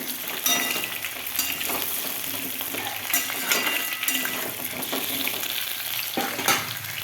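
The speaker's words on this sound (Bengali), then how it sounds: "খাসি মাংসের জন্য আলুগুলো প্রথমে ভেজে নিচ্ছি" Potatoes fry in hot oil for a goat meat curry, a constant close sizzle broken by scraping stirs and light clinks of a utensil against the pan.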